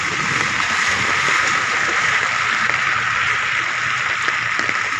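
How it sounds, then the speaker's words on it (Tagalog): Heavy rain falls in a steady, dense hiss near the Amorsolo mansion. It sounds close and continuous, with no pauses. "lumalakas-lakas pa rin talaga yung ulan."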